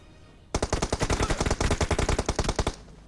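Rapid, loud AWM sniper-rifle gunfire in the mobile shooter game BGMI, a dense burst of roughly two dozen sharp cracks in fast rhythm lasting over two seconds, with no talk over it.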